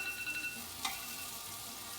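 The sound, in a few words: pierogi frying in butter with onion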